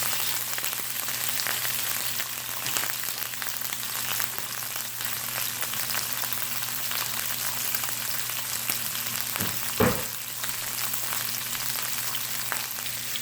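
Shrimp frying in oil in a skillet give off a steady, dense sizzle and crackle throughout, with a brief louder pop near the end; no one speaks.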